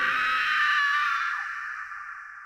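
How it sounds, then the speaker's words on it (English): A woman's high-pitched scream, a single sustained shriek held for about two seconds that fades slightly toward the end, heard alone and close. "let out a high-pitched scream"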